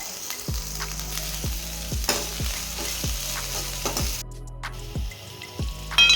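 Ginger and green chili paste sizzle in a hot pan for veg Manchurian, with a continuous frying hiss broken by regular scraping stirs roughly every half second, close and loud with no talk.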